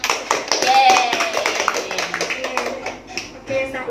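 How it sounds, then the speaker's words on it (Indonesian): A class applauds together at the end of a discussion session, a spell of clapping from many hands in a room, with a voice speaking over it. "kita beri aplaus untuk kita semua ya"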